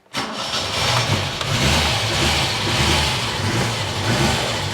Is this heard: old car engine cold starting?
yes